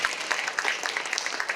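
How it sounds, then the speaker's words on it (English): Audience applause at a fan convention panel, a dense patter of many hands clapping steadily and fairly near, with a few faint voices mixed in. "Round of applause, everyone."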